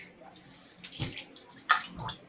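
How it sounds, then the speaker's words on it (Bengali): Tap water splashes briefly in short bursts as hands are washed after a home meal of rice and chicken curry, with a sharper splash near the end. "হাতটা ধুয়ে নিই।"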